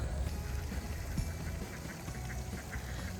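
Ducks at a campground pond quack repeatedly in a lively chorus, several birds calling near and far over a steady outdoor background with no talking.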